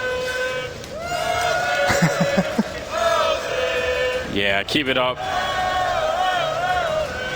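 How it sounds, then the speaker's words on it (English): A large crowd at an esports CS:GO grand final roars, chants and whistles loudly throughout, while commentators talk over the din. "It's been a good crowd this weekend, hasn't it?"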